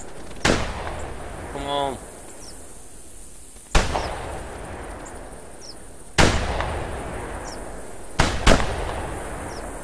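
Shotgun blasts at geese in the hunting video game The Hunter, four or five sharp, loud reports spaced a few seconds apart, with a brief spoken remark in between.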